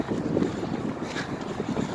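Strong wind blowing under a bridge along a riverside running route between Guri-Amsa Bridge and Jamsil Railway Bridge, a steady rushing roar buffeting the microphone for the whole stretch, with no voices.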